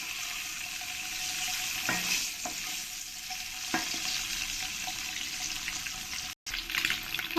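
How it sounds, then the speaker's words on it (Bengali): Eggs frying in oil until browned for a Bengali egg and jackfruit curry, a steady close sizzle with a few soft utensil clicks and a brief dropout near the end, no voices. "ভালো করে লাল লাল করে আমি ফ্রাই করে নেব"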